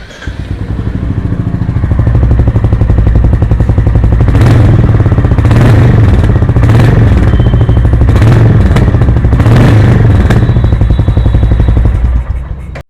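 Close and loud, a Royal Enfield Goan Classic 350 motorcycle thumps at a steady idle, with a series of quick throttle revs rising and falling before it settles back down.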